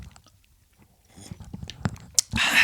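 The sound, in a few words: sipping coffee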